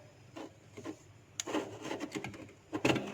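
Close, quiet scraping and scratching as something hard pries ice off a refrigerator freezer fan, in short irregular bursts that grow busier toward the end.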